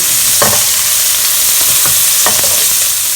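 Scallops frying in oil in a pan, a steady bright sizzle with a few soft scraping stirs breaking through at intervals, close and loud, no voices.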